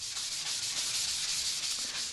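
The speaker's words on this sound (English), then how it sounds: "thing you need to do is sand it down a little with medium grade sandpaper" A gesso panel is sanded down with medium grade sandpaper, giving a continuous close scratchy rubbing that holds an even level throughout.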